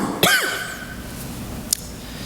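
A single harsh cough from a preacher with a bad cold rings out loudly in a church sanctuary during a Sunday sermon, with a fainter short throat sound about a second later.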